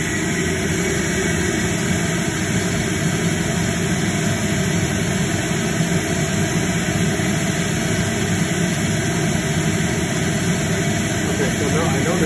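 A moisture-damaged vacuum motor on a Founders SC500 cleaning machine runs steadily and loudly, a constant broadband whine with a low drone underneath that holds the same level for the whole stretch, with no voice over it.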